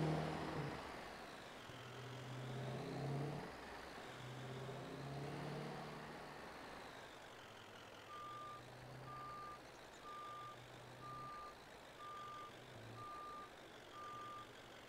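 A vehicle reverses while parking in a wooded farm setting, steady repeated reversing beeps over a low engine drone, with the engine swelling and easing as it moves.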